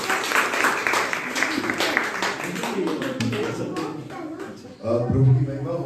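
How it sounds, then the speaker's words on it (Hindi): A church congregation bursts into loud applause, a dense wash of many clapping hands building under a speaker's voice and swelling near the end. "जोरदार ताली बजाकर"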